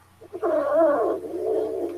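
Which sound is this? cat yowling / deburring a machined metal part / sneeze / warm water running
cat yowling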